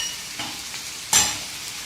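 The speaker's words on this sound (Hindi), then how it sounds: "चिकन का कलर चेंज हो गया, इसको हमने 2 मिनट भून लिया" Chicken pieces frying in a pan with garam masala, cumin and dried coriander powder for a white korma, giving a soft steady sizzle with a few stirring scrapes and one sharper burst of crackle.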